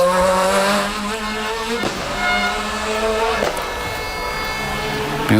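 Rally car at the final corner of the Rali Vinho Madeira, its engine revving loudly with harmonic sweeps and brief gear-change breaks, tires squealing, amid crowd noise and a commentator talking over it.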